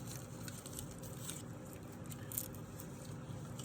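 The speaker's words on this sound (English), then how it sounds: "You can hear the difference of the crunchiness of the leaves" Dry, crunchy Virginia tobacco leaves handled and stemmed by hand, giving a faint, steady crackle and rustle with small crisp snaps throughout, close by and quiet.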